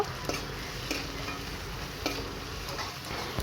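Dry fish frying with salt and turmeric is stirred in a pan in a village kitchen, a steady sizzle punctuated by a few sharp clicks of the spatula against the pan.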